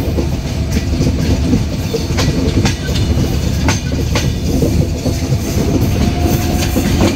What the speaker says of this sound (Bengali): নির্ধারিত সময় থেকে প্রায় 13 মিনিট বিলম্বে ট্রেনটি ছেড়ে যাচ্ছে